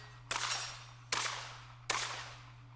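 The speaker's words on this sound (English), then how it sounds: "Shooting from behind the wall." Three sharp rifle shots fired from behind a wall during a tactical rifle drill for executive protection training, evenly spaced under a second apart, each loud crack followed by a short decaying echo.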